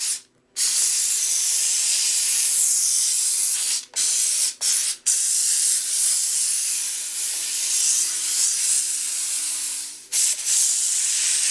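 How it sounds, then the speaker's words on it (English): Loud, hissing spray of a steam cleaner blasting a tire, held in long continuous bursts broken by a few short pauses as the trigger is released. "I'll even steam clean the tire just to warm it up a little more."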